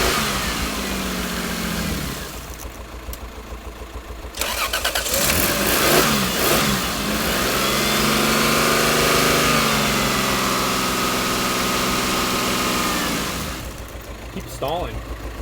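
A Toyota Supra Turbo engine revving, a loud rising and falling roar with a few short gaps where it nearly stalls, heard close with a voice briefly over it.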